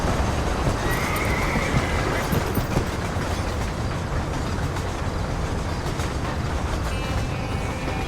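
A horse in the Red Dead Redemption video game whinnies over a dense, steady wash of game ambience and hoof noise that continues without pause, with no talk.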